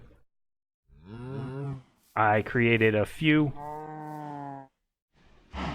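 Long, deep cow moos from Minecraft in the Stoneblock 2 modpack, two or three drawn-out calls in a row, loud and close, with someone briefly talking near the end.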